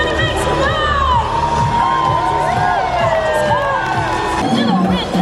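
At an outdoor Universal Studios Singapore street show, a crowd cheers, whoops and shouts, with children's voices mixed in. Energetic, continuous crowd noise sits over background music, and an amplified voice can be heard amid the din.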